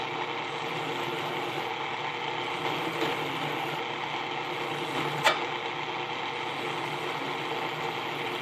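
Drill press running at its slowest speed while machining a 3D printed tripod part, a steady mechanical whir with faint rattling and a brief sharp click near the end, close by.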